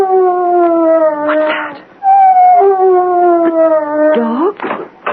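A dog's drawn-out howl from a 1977 radio mystery drama rises and sinks in long, wavering tones, heard twice with a brief gap between. A voice speaks briefly near the end.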